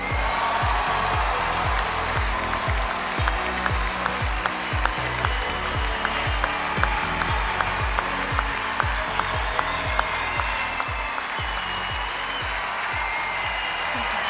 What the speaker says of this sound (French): cette acclamation en dit long sur l'amour du public pour la performance réalisée.